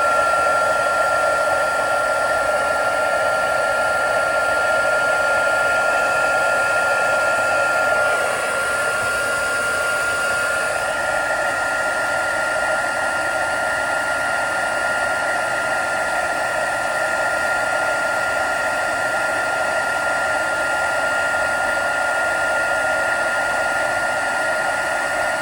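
A heat tool melts embossing powder on a handmade stamped card, a constant loud whirring blow of air with a steady high tone that shifts slightly partway through and runs unbroken throughout.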